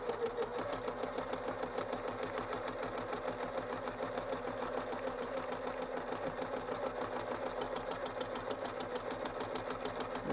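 Sewing machine stitching through a felted greeting card, a steady continuous mechanical whirr with a fast, even needle rhythm running throughout at moderate, close level, with no talking.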